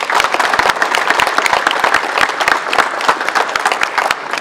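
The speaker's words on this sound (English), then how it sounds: "so I think that's worth a round of applause." A dense, steady round of applause from a ceremony audience at a marine industries hall of fame event in St. John's, Newfoundland, loud and continuous with many hands clapping at once, with no talk over it.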